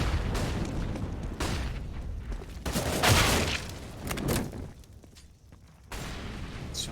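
Gunshots in Counter-Strike during a professional match on the map Ancient come as several irregular bursts and booms, loud then fading, with quieter gaps between volleys.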